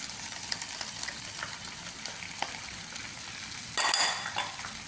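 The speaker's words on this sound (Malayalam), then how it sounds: "എല്ലാം കൂടി ചേർത്ത് നല്ലോണം ഒന്ന് മിക്സ് ചെയ്ത് ഒന്ന് മൂപ്പിച്ച് നമുക്ക് ബീഫിലേക്ക് ഒഴിച്ചു കൊടുക്കാം" Fried spice mix poured into beef for a coconut-topped beef fry, a soft crackling sizzle with light spoon scrapes against the pan, then a sudden louder hiss as the hot mixture hits the meat.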